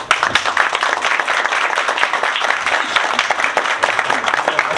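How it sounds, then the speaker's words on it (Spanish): A large audience at a university book presentation claps in dense, sustained applause that stays loud and even throughout, with no break and no speech on top. "Les pido un aplauso, por favor."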